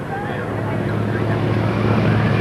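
Big radial-engine F4U Corsair warbird, 2,000 horsepower, roaring steadily at an air show, a loud continuous drone with a low throbbing hum and a rising whine, with a voice announcing over it.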